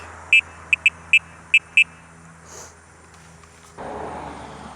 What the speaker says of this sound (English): here's what the horn sounds like